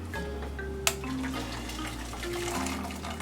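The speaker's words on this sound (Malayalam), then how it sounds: "ഇതിലേക്ക് ഞാൻ കുറച്ച് ചൂടുവെള്ളം ഒഴിക്കുവാണ്." Hot water poured into a pan holding part of a homemade barbecue sauce, before pork ribs are added on a stove: a steady, close rushing pour, fairly soft, with one brief clink near the start and no talk.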